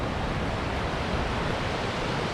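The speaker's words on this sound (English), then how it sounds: "Already a good waterfall to start" Rushing waterfall at the start of a gorge, a steady, dense broadband roar that stays constant and fairly loud throughout with no voices over it.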